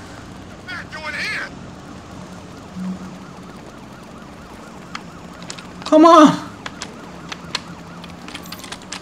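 A police car siren in the video game Batman: Arkham Knight gives a brief rising wail over busy game noise, and someone speaks briefly.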